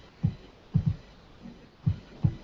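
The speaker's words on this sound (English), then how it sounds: "or you can even share something as personal as your own heartbeat" A human heartbeat shared through an Apple Watch, heard as soft low thumps in lub-dub pairs, about four beats in two and a half seconds, steady and close with no talking.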